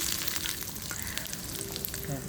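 Mustard seeds, urad dal and chana dal sizzle and crackle in hot oil, a dense steady frying hiss with scattered pops running throughout.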